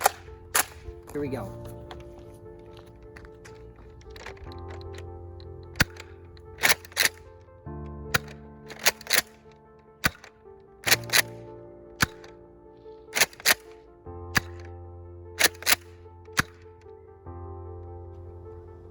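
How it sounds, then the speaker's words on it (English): Nerf Accustrike Raptorstrike foam blaster firing darts outdoors on a range, sharp snappy shots spaced a second or two apart, some in quick pairs, with mechanical priming clacks between and a brief spoken remark near the start. "Starting off with the firing test with the RAPTORSTRIKE."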